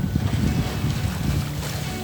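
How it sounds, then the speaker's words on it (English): Steady wind buffets the microphone during a night sail aboard a sailing yacht, making a constant low rumbling roar with water rushing beneath it. There are no clear gusts or pauses. "Wind staying pretty constant now, so a really nice night sail."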